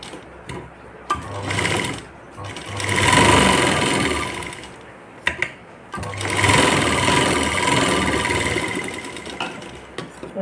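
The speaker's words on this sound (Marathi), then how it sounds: "तर आपण आता तो शिवून घेऊ." A sewing machine stitches the sides of a small fabric triangle for a blouse latkan, running in two long loud bursts separated by short pauses and handling clicks.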